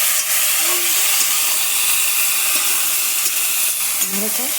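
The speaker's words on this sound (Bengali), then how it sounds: "সবজিটা ভেজে নিই।" Vegetables, including raw green banana, fry for Bengali shukto, a constant loud hissing sizzle with faint speech underneath.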